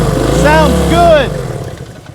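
Small single-cylinder engine of a 1971 Honda CB100 motorcycle running near and loud, with a brief throttle blip and rising whine before settling toward a rough idle; a voice talks over it.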